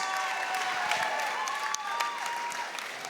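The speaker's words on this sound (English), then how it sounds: "Ladies and gentlemen, how about a round of applause for these two warriors?" A crowd applauds for two fighters at the close of a fight, with steady dense clapping throughout and a few thin whistle-like tones rising over it.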